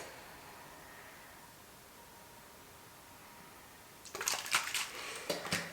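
A rose water soothing face mist bottle gives a few quick, close spritzes near the end, short breathy hissing bursts after a stretch of quiet room hiss.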